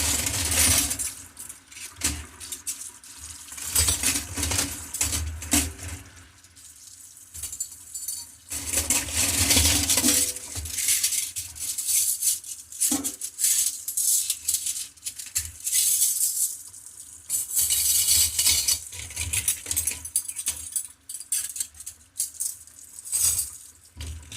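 Washed dishes and utensils being rinsed under running water at a kitchen sink, bursts of gushing water with clinks and knocks of crockery and cutlery scattered throughout, close and busy.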